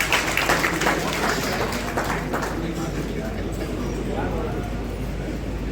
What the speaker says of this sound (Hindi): तालियां बजे जरूर।